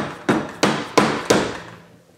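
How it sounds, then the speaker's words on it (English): Four sharp hammer taps on a Cannondale Headshok F600 mountain bike fork, evenly spaced and close, each striking then ringing briefly before decaying into a quiet workshop. "Go ahead and tap on either side of the fork."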